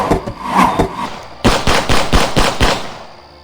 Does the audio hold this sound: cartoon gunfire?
yes